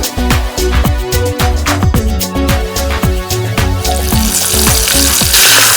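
Onion petals frying with paneer in hot oil, a loud, steady sizzle with repeated stirring clatter and scraping throughout, no voices.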